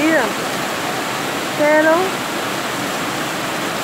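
Rainwater pours steadily out of a pipe in a continuous rushing splash, with a voice speaking briefly over the flow.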